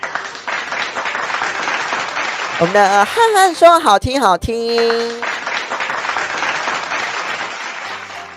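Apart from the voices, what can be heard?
applause and clapping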